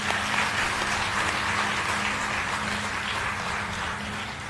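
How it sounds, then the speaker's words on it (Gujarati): Audience applause for a film actor at a gathering, dense sustained clapping from a large crowd that fades a little toward the end. "આ છોકરાને એકવાર તાળીઓથી વધાવો બધાને"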